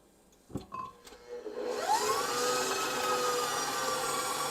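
An electric mixer starts up after a few knocks and clinks, then settles into a steady whirring hum as it beats almond gooey butter cake batter in a bowl.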